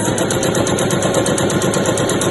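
A sewing machine runs a straight stitch down the side seam of a fabric weekender bag, a fast, evenly spaced mechanical chatter that repeats steadily and close up with no pauses.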